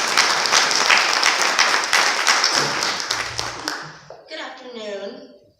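An audience at a sports hall of fame ceremony breaks into dense, lively applause that fades out over a few seconds before a voice begins speaking.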